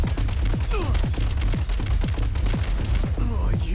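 Rapid video game gunfire rattles in a dense, steady string of loud shots across the whole stretch, with brief sharp bursts and a short lull near the end.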